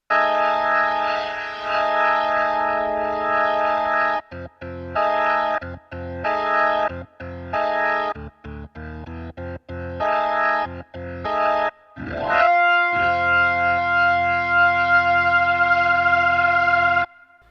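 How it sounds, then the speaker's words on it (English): A distorted Yamaha YC88 stage keyboard organ plays choppy staccato chords, then holds a long chord as the rotary speaker switches from slow to fast into a warbling swirl; loud, close, no talking. "It's changing the rotary speaker from slow to fast."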